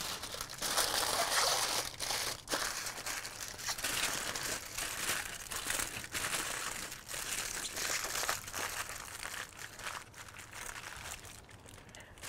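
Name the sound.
wrapping spareribs tightly in aluminum foil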